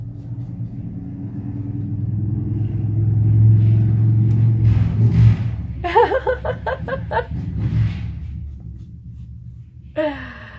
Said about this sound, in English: here comes this really super loud car